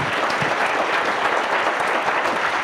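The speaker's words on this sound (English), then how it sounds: "let us give Peter a big warm round of applause" Steady audience applause closing a forum lecture on streets and city ownership, a dense, even wash of clapping hands throughout with no voices over it.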